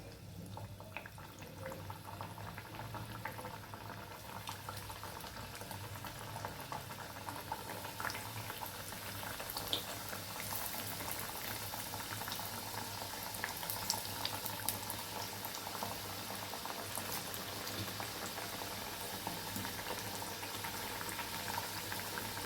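Puris made from a maida and potato dough deep-frying in hot oil give a steady, dense bubbling sizzle that holds evenly throughout, close and continuous, with no voices.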